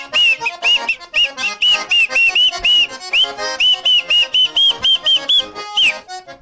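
Loud, piercing two-finger whistling by a person, a rapid run of sharp shrill bursts and warbling trills with brief gaps, close and alone without talk.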